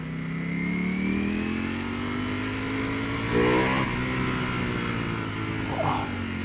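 A 2018 Ducati V4S motorcycle engine revs up under hard acceleration, its rising, strained note loud and close, with wind rush and a brief surge in the middle.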